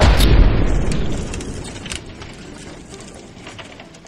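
A bomb explosion sound effect: one loud, deep boom at the start that rumbles and fades out slowly over several seconds.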